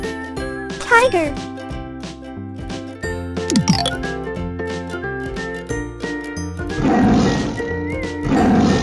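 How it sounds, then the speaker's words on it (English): A tiger roars in a children's zoo-animal learning piece: growling roars come over bouncy background music, with a chirpy jingle and a child-like voice in the mix. "Tiger."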